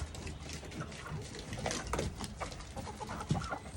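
Backyard chickens and a rooster clucking together at morning feeding time, a busy continuous flock chatter with scattered louder squawks, close and fairly quiet, no talking.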